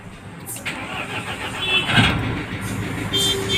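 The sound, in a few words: Mahindra Scorpio engine starting with self-starter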